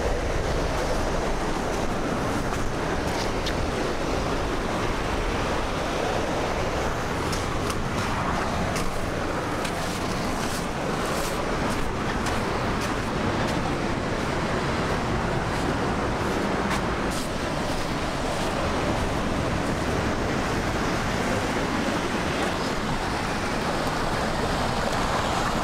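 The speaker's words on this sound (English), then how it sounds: "the ocean was so loud" Loud, continuous roar of Pacific Ocean surf at Cape Kiwanda, Oregon, a steady wash of crashing waves with no pauses and no voices.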